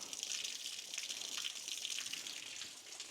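Water gushes steadily through the radiator of a first-generation Toyota 4Runner with a 4Y engine, a continuous close hissing splash with no pauses.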